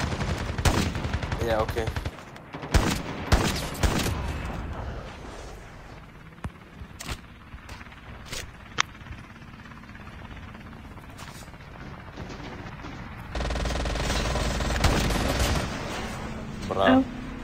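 Bursts of video game gunfire crackle through a round, with rapid volleys early on and a long sustained burst near the end, while players talk and react over the shooting.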